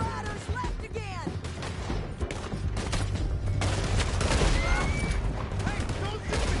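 Gunfire crackles through a mounted chase in Red Dead Redemption 2, with rapid overlapping shots near and far under steady hoofbeat-like rumble, while characters shout over the fight.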